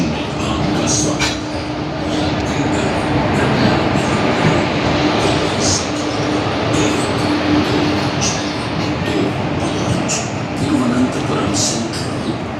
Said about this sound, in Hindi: New Delhi, Kerala Express has just arrived on platform number 2.